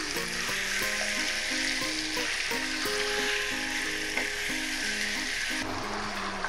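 Pieces of chicken for a pickle-spiced curry fry in a pan with a loud, dense, continuous sizzle that never lets up, while an unhurried looping melody plays beneath it.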